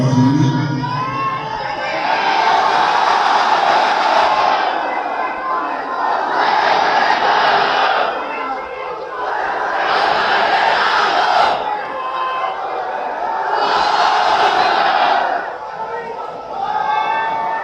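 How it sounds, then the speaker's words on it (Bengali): A large crowd at a Quran recitation conference stands and chants takbir, Allahu Akbar, in loud, rhythmic group shouts that come in about four surging waves with short pauses between. "একটু মাত্র দাঁড়িয়ে তাকবীর দেন বাবা"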